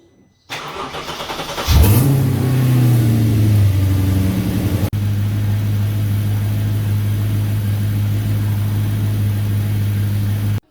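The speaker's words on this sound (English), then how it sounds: "so I started the car, let the car run for a little bit, turn it off" A 2007 Audi B7 RS4 engine, just back from an oil change, cranks and catches, flares briefly, then settles into a steady, close, loud idle that holds to the end, with no talk.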